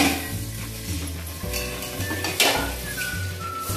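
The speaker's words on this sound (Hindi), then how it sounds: "वो तड़का लग रहा है गाइस यहाँ पे, इस चावल में जाने के लिए जीरा राइस" Cumin tempering sizzles steadily in a pan for jeera rice, with clinks and scrapes of a ladle stirring against the metal, close and fairly loud throughout.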